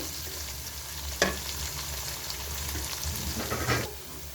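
Onions fry in hot oil for Afghani pulao, giving a steady sizzle with a few louder scrapes of a spoon as they are stirred, close up and without talk.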